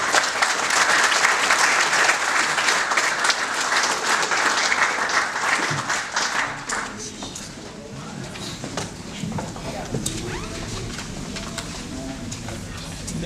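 Dense, loud clapping from an audience at a UMP municipal primaries political meeting in 2014, gradually thinning into scattered claps and room noise with some faint murmuring.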